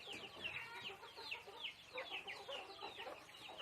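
Several chickens clucking close by as they scramble for vegetables, a busy, overlapping flurry of short calls with quieter moments in between.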